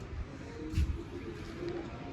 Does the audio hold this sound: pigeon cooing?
yes